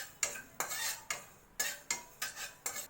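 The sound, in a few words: dry frying cumin and fenugreek seeds in a pan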